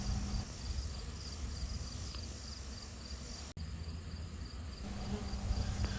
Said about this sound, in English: I am standing in the middle of this cloud of bees